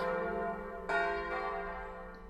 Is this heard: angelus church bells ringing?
yes